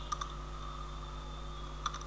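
Code typed on a computer keyboard: two quick pairs of key clicks, one at the start and one near the end, over a steady electrical hum.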